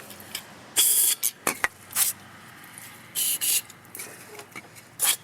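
Several short bursts of carb cleaner spray hiss into the carburetor of a 1972 Triumph Tiger 650 motorcycle in quick succession, close up, with brief pauses between them and no voices.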